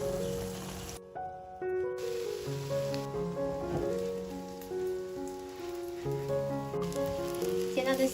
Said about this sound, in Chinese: 全程用中小火慢慢煎